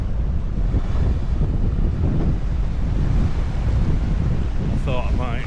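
Strong wind buffets the microphone in a continuous loud roar at a harbour in Scotland, with surf-like rushing and a brief voice near the end.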